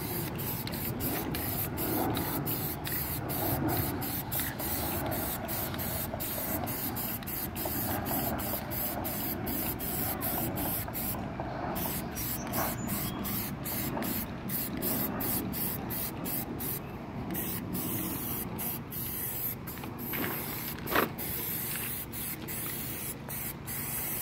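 Aerosol cans of Plasti Dip coat the wheels of a 2018 Ford Explorer, with long steady hissing sprays broken by many short pauses in a quick rhythm, close and continuous throughout, with no one speaking.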